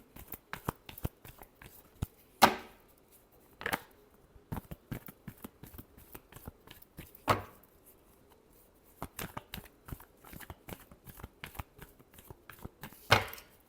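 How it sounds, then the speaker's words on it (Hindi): Tarot cards being shuffled close up, a quiet, continuous patter of riffling card edges broken by several sharper snaps where the deck is bridged or tapped. "last shuffle"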